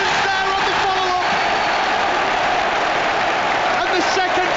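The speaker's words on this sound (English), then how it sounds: "Applause from Anfield." Football crowd at Anfield during a Premier League match between Liverpool and Tottenham, a loud, steady wash of applause and cheering that fills the whole stretch, with crowd voices mixed in.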